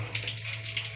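Water runs and gushes steadily from a water filter during filter replacement, with a hissing, bubbling flow over a low hum, brief and fairly quiet.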